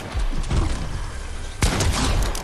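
Fortnite shotgun gunfire from a long-range pump shotgun in a match, two heavy blasts about a second apart with rumbling tails and scattered game noise, loud and close, no voices.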